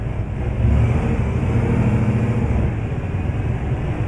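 A Ford F-Max truck in Euro Truck Simulator 2 drives through heavy rain, its engine a steady low diesel rumble that swells slightly then holds under a broad hiss of rain.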